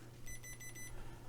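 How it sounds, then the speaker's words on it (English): Multimeter in continuity mode beeping as it tests the buttons on a cheap eBay joystick board: a short series of about five quick tonal pulses, fairly faint over a low steady hum. "I've got my multimeter set up to"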